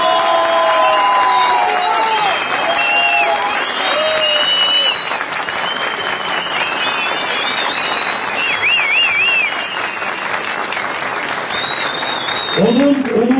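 Crowd applause with cheering at a Turkish political rally for a Söke mayoral candidate, dense and sustained clapping throughout, with shouts and whistles rising over it and a voice breaking in near the end.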